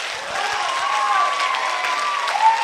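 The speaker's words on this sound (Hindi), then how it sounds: "एक बार जोरदार तालियां अपने लिए बजाकर दिखाएं।" An anniversary celebration audience in Bhubaneswar, Odisha bursts into loud, continuous applause, a dense wash of many hands clapping with some crowd noise mixed in.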